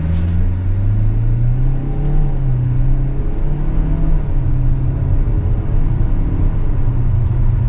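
A 2025 Kia Soul GT-Line engine with an IVT hums and rises in pitch, then drops through stepped simulated gear changes, a close steady drone from inside the car.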